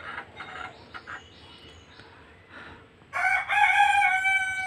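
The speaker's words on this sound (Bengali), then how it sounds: "3টে মুরগি, একটা মোরগ" A backyard rooster, kept with three hens, crows loudly and close in one long drawn-out call after a few softer clucks and faint calls from the flock.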